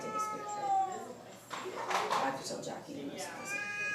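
Shelter cats in a cozy cat lounge meow repeatedly, with drawn-out, wavering cries at moderate distance that overlap a voice talking throughout.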